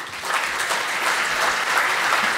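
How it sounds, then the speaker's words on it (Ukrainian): An audience applauds at a Ukrainian state presentation, a dense sustained clapping from a large crowd that stays steady and loud throughout without pause. "А можна оплески, щоб тривали, чого ви зупиняєтесь?"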